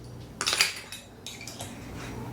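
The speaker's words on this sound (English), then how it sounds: "I'm just mixing in the wet ingredients first with the spices" Utensil clinks against a bowl while wet ingredients and pumpkin pie spice are mixed, a cluster of bright scraping taps early on, then softer intermittent stirring, close and fairly quiet.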